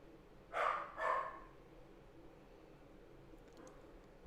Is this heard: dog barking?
yes